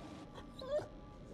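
A dog in the horror video game The Devil In Me lets out a single short, soft whimper, close and brief over a low game ambience.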